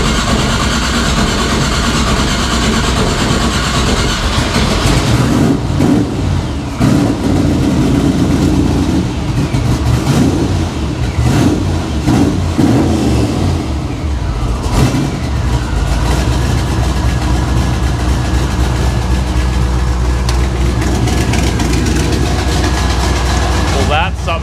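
1955 Chevrolet Nomad gasser engine idling rich, a loud, rough, uneven rumble that lasts throughout with a few blips of revving, while people talk over it.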